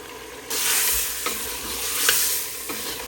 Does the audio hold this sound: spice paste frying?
yes